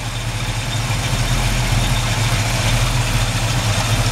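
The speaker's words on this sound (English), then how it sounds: "Engine runs great, purrs like a kitten." A 1962 Chevrolet Impala's engine idles steadily up close, a continuous low rumble with a faint mechanical hum above it and no talking.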